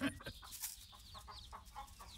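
An old rooster clucks in a series of short, low-level clucks and chirps, with a few louder calls at the start, close and alone.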